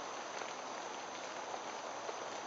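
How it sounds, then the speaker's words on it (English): Light rain pattering steadily on a tarp strung along a ridgeline outdoors, a soft continuous hiss with faint scattered drop ticks. "I'm getting hit with raindrops here."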